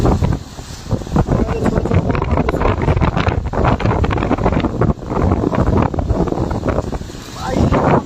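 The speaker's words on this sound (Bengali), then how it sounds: "নদীতে উত্তাল ঢেউ" Rough river waves churn and slap near Aliganj market during a Kalbaishakhi storm, a loud, continuous wash with wind buffeting the microphone throughout.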